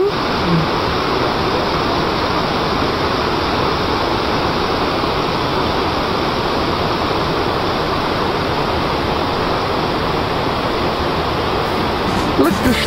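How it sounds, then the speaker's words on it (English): A roaring creek rushes near Cathedral Rock in Sedona, a loud dense wash of flowing water that holds steady for the whole stretch. "Roaring Creek."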